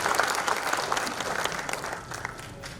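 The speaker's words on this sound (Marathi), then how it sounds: "आपण टाळ्या वाजवून त्यांच्या कार्याचं अभिनंदन करूया आणि त्यांचं स्वागत करूया." Audience applause at an education award ceremony in Aurangabad, a steady dense clapping from a seated crowd, fairly close and continuous, tapering slightly toward the end.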